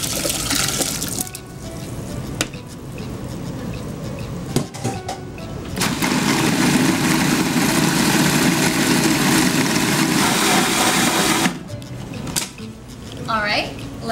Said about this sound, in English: put my ginger simple syrup into the food processor to further mash up and chop up that ginger